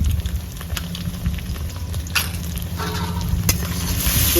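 A steady sizzle comes from ginger garlic paste frying in a pan for chicken curry, with a few clicks of stirring. It is close and constant, and no one speaks.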